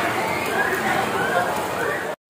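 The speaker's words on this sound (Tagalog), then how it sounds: "naghihintay lang po kami na tumila ang ulan" Steady rain pouring at a water park, a dense, even hiss of drops spattering on surfaces and water, loud and close, running continuously before cutting off abruptly.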